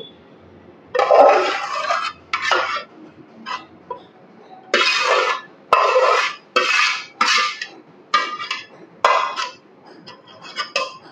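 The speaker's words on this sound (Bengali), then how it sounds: "দিয়ে একটু আলগা করে এভাবে নেড়ে চেড়ে দেব" Kheer, a milk pudding, being stirred in a pot with a spoon, a series of loud scraping and clinking strokes in uneven bursts, close up with no talk.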